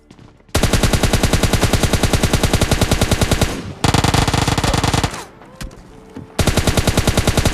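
Automatic gunfire from PUBG Mobile Lite rattles in loud, rapid bursts of evenly spaced shots, broken by brief pauses between strings of fire.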